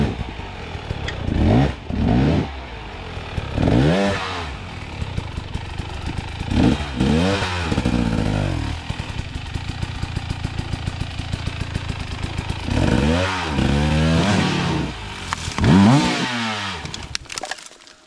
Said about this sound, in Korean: 오토바이 힘 좋다 야 니꺼